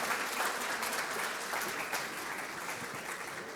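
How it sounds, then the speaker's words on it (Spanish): An audience applauds a speaker at a Spanish-language conference talk: dense, steady clapping that stays loud and even, with no voices over it. "Así que con un fuerte aplauso, Miquel Rossi."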